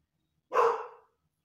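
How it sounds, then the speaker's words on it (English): A dog gives a single short, sharp bark nearby during an upper-body workout, with quiet before and after. "Excuse my dog, sorry."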